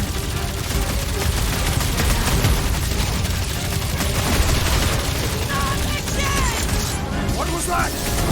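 Gunfire in the Guardians of the Galaxy video game, dense and continuous, blended with clattering mechanisms, impacts and a busy layer of combat noise and game voices throughout.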